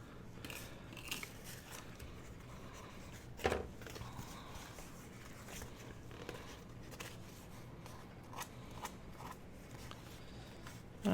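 Scissors snip loose tissue from a paper napkin envelope, a few quiet, scattered cuts and crisp paper rustles against a soft background.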